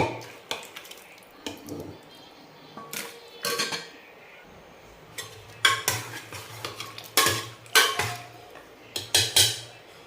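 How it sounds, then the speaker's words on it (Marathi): Oily goat mutton is scraped and spooned into a metal cooking pot, giving repeated sharp clanks and scrapes of utensil on metal in irregular bursts, close by over a quiet background. "आपण ह्या पातेल्यामध्ये आता काढून घेणार आहे मटण"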